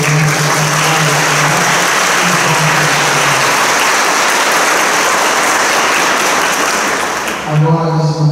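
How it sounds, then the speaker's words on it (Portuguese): A congregation at a First Communion Mass claps together in a loud, continuous burst that holds steady for several seconds and then fades out. "Uma salva de palmas para Jesus."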